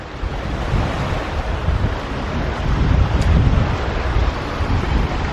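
Steady wind blowing across the microphone on a Mediterranean beach, with a low rumbling roar of surf beneath, continuous and fairly loud throughout.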